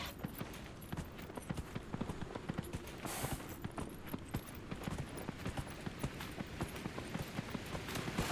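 Horse hooves clip-clop in Dragon Age: Inquisition as a mount travels through the countryside, with a quick, steady rhythm of distinct hoof strikes over a soft ambient bed.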